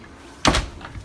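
A door swings shut with one solid thunk and a brief rattle, fairly close in a quiet home, followed by a faint softer knock as it settles.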